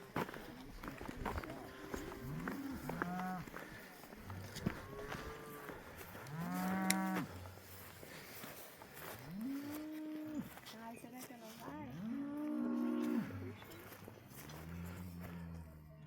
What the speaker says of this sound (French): On va aller dire bonjour aux vaches.